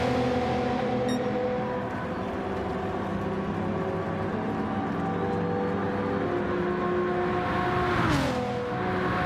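GT race cars lapping Monza in a racing game, a steady droning engine whine from several cars with shifting pitch and a brief swelling pass near the end, no talk.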